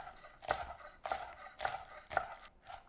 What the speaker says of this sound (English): I'm gonna do a quick chop of the green onion to put in there too